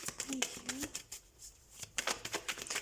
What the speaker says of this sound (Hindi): तो हम कार्ड शफल कर लेते हैं